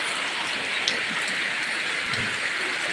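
Heavy rain pours down in Jhalakathi, Bangladesh, a loud and constant hiss of drops striking surfaces, with a few sharper taps standing out.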